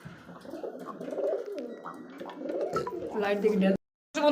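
Several pigeons at a pigeon market, both local and foreign breeds, coo softly in low, repeated throaty calls nearby, with someone speaking over them toward the end.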